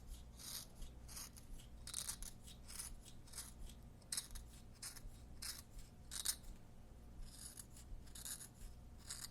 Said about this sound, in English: just very gently scraping along the charcoal now